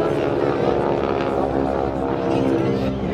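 A propeller aircraft flying aerobatics at the Torbay Airshow 2016 gives a continuous loud droning engine roar with a pulsing buzz, while a voice talks over it.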